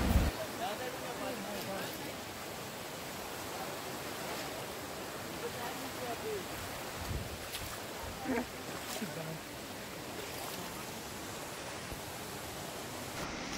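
Fast-flowing river water in a Konkan village rushes as a steady broadband roar, fairly close and even throughout, with a few faint knocks and movements over it.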